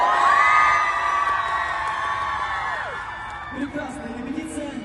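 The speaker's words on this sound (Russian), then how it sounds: "Вы громко шумите и хлопайте в ладоши" A concert crowd in Yakutsk lets out a loud, sustained shout in unison that slowly trails off, followed by scattered voices and fainter calls.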